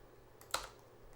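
One faint, sharp keystroke on a computer keyboard while numbers are entered during film-editing work, a single click in an otherwise quiet room.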